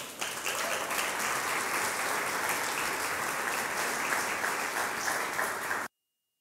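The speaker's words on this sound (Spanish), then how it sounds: "Dales un aplauso, por favor." An audience at a church gathering claps loudly and evenly for invited helpers, a dense sustained round of applause that stops abruptly, followed by silence.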